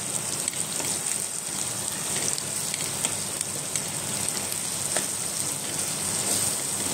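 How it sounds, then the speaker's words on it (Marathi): Red chili powder and turmeric sauté in hot oil in a pan, making a steady, close sizzle that hisses on without a break and with no voice over it. "आणि याला छान परतून घेते"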